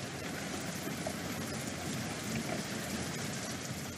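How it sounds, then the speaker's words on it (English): Steady rain, a continuous hiss of falling drops with a faint low rumble beneath, moderately quiet and unbroken, with no voices. "it's raining"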